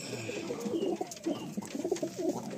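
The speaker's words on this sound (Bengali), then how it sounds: "আসুন ছেলে পায়রাটা দেখায়।" A male Madrasi pigeon coos softly nearby, repeated low throaty calls rising and falling over faint background noise.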